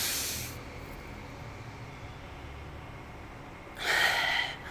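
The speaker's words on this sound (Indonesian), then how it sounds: "nafas dari hidung, ini cenderung lebih ke perut." A deep breath is drawn in through the nose in a breathing exercise for Quran reciters and muezzins, heard as a breathy hissing inhale at the start and a louder rush near the end over quiet background.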